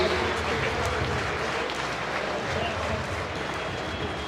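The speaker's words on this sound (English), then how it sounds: "let's have a nice big round of applause for Carmen and Giancarlo Grimaldi" Audience applause at an awards evening for lifetime achievement honorees Carmen and Giancarlo Grimaldi, a steady broad wash of many hands clapping in a large room, continuous for over four seconds with crowd murmur beneath.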